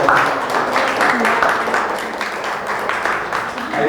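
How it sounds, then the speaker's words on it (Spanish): Audience applause in a classroom talk on everyday physics, a steady dense wash of clapping held at an even level throughout with a murmur of voices beneath it. "Te damos un buen aplauso."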